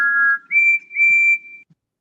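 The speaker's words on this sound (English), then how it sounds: "that's their whistle sound effects when they did it" Three clear whistle notes in quick succession, the first lower and the next two higher, loud and close with brief pauses between.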